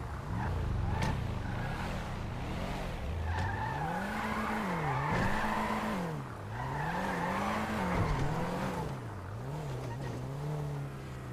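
A car in GTA roleplay revs with a wavering, rising and falling engine note while the tires squeal and skid continuously, loud and close, with a voice speaking briefly at the start.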